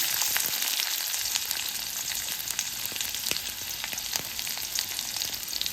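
Mustard seeds, curry leaves and onion fry in hot oil, making a continuous close hiss peppered with scattered crackles and pops from the seeds.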